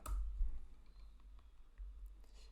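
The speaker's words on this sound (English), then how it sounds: "I'm going to type in, the first thing that I'm going to type in is YouTube" Faint, scattered clicks of typing on a computer keyboard, a few light keystrokes spread over a couple of seconds against a quiet low background rumble, with no speech.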